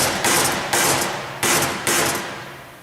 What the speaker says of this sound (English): some people take a hammer